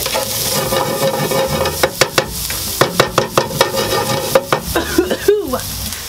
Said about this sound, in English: Add that in there and let that saute.